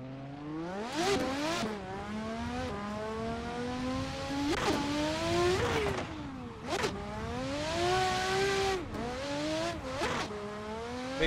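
Simulated drift car engine in Assetto Corsa, revving hard through the gears from a second-gear start, with rising pitch sweeps, sharp drops at each shift and bursts of tire noise, continuous and loud with no talk.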